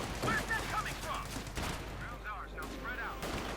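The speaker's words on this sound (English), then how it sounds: "Stewart moving up there, opening up, and the MG42 almost wiping out there" German MG42 machine gun firing in the strategy game Company of Heroes 2, rapid bursts of gunfire under a commentator's voice amid battle noise, repeated across the stretch with short pauses.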